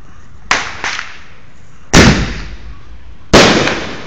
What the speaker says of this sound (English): a single shell artillery.